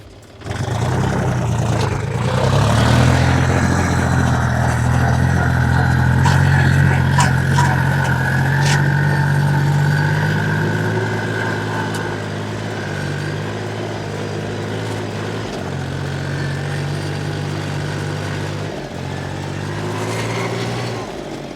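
A heavy Chinese tractor engine drones steadily and loudly while driving uphill off-road, its low rumble shifting in pitch as it labors under load, with a few brief dips.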